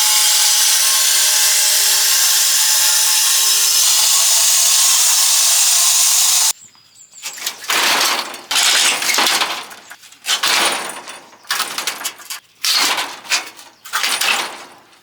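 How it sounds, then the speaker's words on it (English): A steady, loud power-tool whine runs for several seconds while cutting a fillet off the front and back of bricks, then stops and gives way to close, rough bursts of rasping grinding with short pauses between. "now I've cut that kind of fillet off the front and the back of the bricks"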